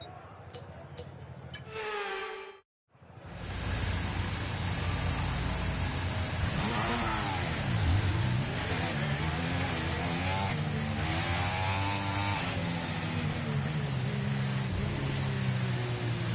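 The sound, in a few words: F1 car engine revving on practice start, from a video game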